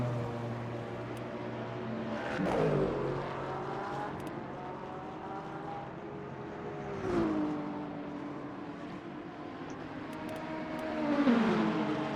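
A Grillo Porsche race car in Le Mans Ultimate laps Bahrain, its engine droning at moderate distance, with three swells where the pitch climbs and falls as it revs and shifts.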